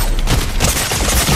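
Turret in Fortnite firing a dense, loud, continuous burst of rapid shots through the whole brief moment.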